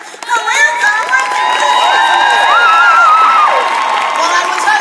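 A conference audience at a 2015 career conference cheering and whooping loudly in a hall, a dense, sustained wall of shouts and cheers lasting several seconds, with no clear applause standing out.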